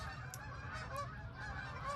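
A flock of Canada geese honks overhead above a front garden in late spring, the calls scattered and fairly faint over steady low background rumble, with no one talking.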